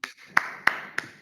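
Three sharp separate claps, evenly spaced, from a small group or single person closing an online webinar session with a group photo; loud and close, with faint background room noise between.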